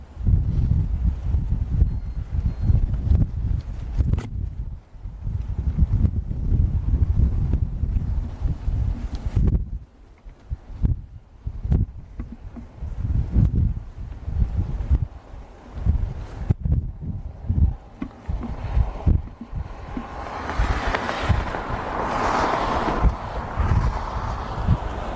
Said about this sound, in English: got a lot of wind here